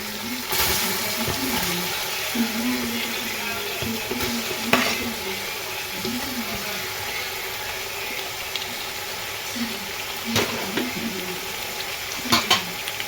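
Tomatoes frying in oil for biryani make a steady low sizzle, with occasional sharp clinks and scrapes of a utensil against the pot, close and without talk.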